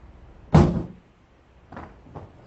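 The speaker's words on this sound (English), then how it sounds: "First attempt at breaching the door" A SWAT team at a competition strikes a door in a breaching attempt, producing one loud sharp impact followed by two fainter knocks a second later, with no talk over it.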